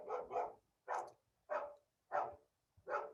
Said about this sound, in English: My neighbors have a dog.